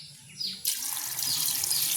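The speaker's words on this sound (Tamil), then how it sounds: "சரி அளவான தண்ணி விடுவோம்" Water splashes from a tap into a pot of washed food, starting abruptly after a short quiet pause and running steadily, a bright hissing gush close by.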